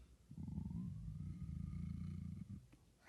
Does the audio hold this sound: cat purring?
yes